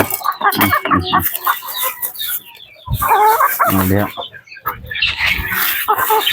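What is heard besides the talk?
Shamo chickens clucking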